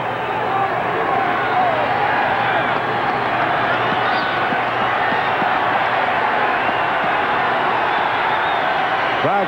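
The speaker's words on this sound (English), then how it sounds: "Crowd starts up, and they can start up big time here at Mile High" A stadium crowd at Mile High in Denver, during a 1991 Broncos football game, keeps up a loud, continuous roar of cheering and hubbub, with a commentator's voice likely running beneath it.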